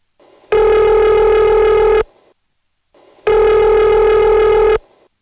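Odd-sounding ringback to Bowling Green over an unfamiliar analog carrier trunk on a 1977 Ladysmith, Virginia crossbar call: two loud, evenly spaced harsh ring bursts about a second and a half long, with faint line noise between them.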